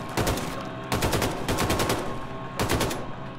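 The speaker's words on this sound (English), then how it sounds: "Sure is easy with a fully automatic weapon." Fully automatic weapon in the shooter game Wolfenstein II firing three rapid bursts at a range, each a fast rattling string of shots, loud and close with brief gaps between.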